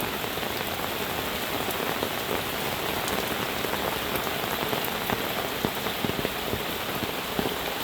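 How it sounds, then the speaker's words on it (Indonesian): Heavy rain pours down in the countryside on a late afternoon with strong wind, a dense, steady hiss of drops drumming on surfaces with occasional closer splatters, no voices. "Suasana hujan di pedesaan ini sahabat, sore hari sahabat."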